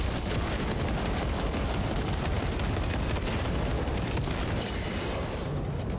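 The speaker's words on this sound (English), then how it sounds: "Throwing frag grenade." A frag grenade detonates in the Warhammer game Space Marine 2, a loud sustained roar of explosion and crackling gunfire blasting continuously, dense and close, without speech.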